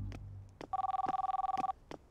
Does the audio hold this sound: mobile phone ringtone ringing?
yes